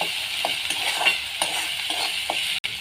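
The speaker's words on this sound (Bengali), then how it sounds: "মশলাটা ভালো করে ভেজে নেব।" A masala paste of chilli, turmeric and cumin powders, ginger and mustard paste with salt fries in a pan over a wood fire. It gives a continuous close sizzle, with soft stirring scrapes every half second or so.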